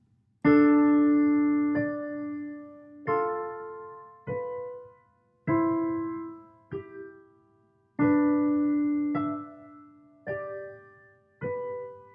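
Second species two-voice counterpoint in D Dorian, played slowly on a keyboard: a held lower note under moving upper notes, each struck tone ringing and fading, no talking.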